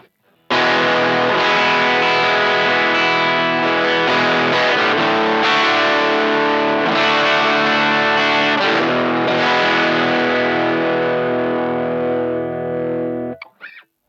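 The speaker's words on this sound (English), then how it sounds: "it's a good amount of gain. It's not heavy metal or anything, but it's a good, nice distortion sound" Electric guitar played through a Boss GE-7 equalizer pedal with a noise mod gives a moderate-gain distorted tone, sustained chords ringing loud and thick for about thirteen seconds, changing a few times before cutting off.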